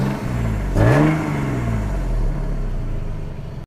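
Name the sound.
Toyota Mark 2 Blit JZX110W engine revving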